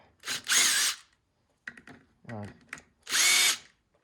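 A power tool loosens the clutch pack bolts on a Kawasaki 110 in three close, loud whirring bursts, with short ratcheting and clicking handling noises in the pauses between them.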